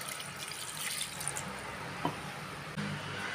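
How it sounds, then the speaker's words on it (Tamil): Water poured into a mixer jar of soaked parboiled rice for grinding batter, a steady close trickle and splash running throughout with a couple of brief clinks near the end. "தேவையான தண்ணி ஊற்றிக்கலாம்,"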